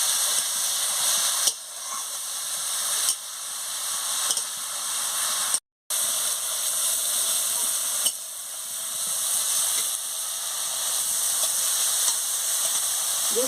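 Spice paste of ground cumin and ground coriander frying in a pan for a magur fish curry, a steady close sizzle and hiss with brief dips, one cutting to near silence.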